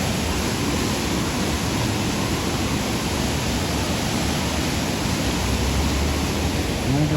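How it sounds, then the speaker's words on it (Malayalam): The hidden Chappanthottam waterfall gives a loud, steady rushing roar that fills the whole stretch without a break. "ഒരു രക്ഷയില്ലാത്ത വെള്ളച്ചാട്ടം കേട്ടോ, അടിപൊളി വെള്ളച്ചാട്ടവും"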